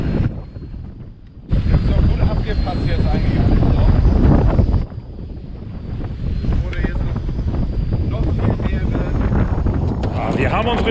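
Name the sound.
wind blowing on open water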